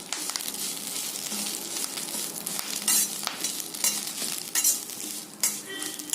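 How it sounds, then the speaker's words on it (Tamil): Curry leaves frying crisp in hot oil while being stirred, a dense, continuous crackling sizzle with bursts of sharper popping and scraping, close and steady throughout with no voices. "கருவேப்பிலை பாருங்க இந்த மாதிரி நல்ல மொறுமொறுன்னு ஆகிற மாதிரி வறுத்துக்கோங்க"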